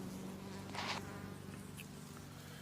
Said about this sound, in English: Really docile bees, really good hive, good colony of bees.